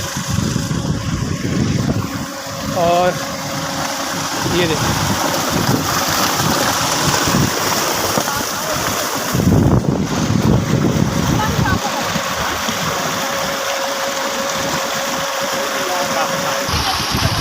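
Steady rushing of water gushing from a village tubewell over a constant pump motor drone, with someone talking briefly over it outdoors in the evening.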